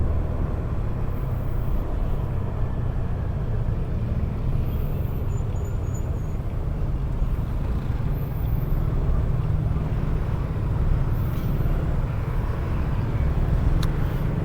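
Metro Manila traffic heard from a moving motorcycle: a steady, continuous road rumble and engine drone with faint higher hiss, no distinct horns or voices standing out.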